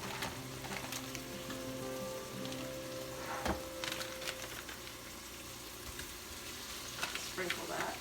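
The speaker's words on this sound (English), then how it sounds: "Sprinkle that meat in there. Get it sauteing, onion and butter." Stew meat browns with onion and butter in an Instant Pot, a soft continuous sizzle under faint steady hum, with a couple of brief clatters from utensils against the pot.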